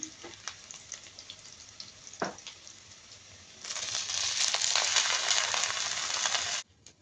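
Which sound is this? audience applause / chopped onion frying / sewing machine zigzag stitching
chopped onion frying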